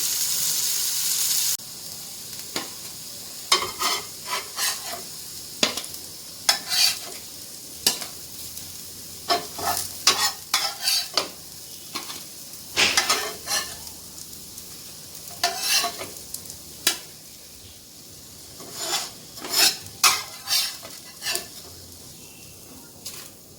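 Breaded cutlets sizzle and fry in a hot pan at home, a steady crackling hiss broken by repeated sharp scraping and stirring clicks from a spatula, close and fairly loud, with no voices.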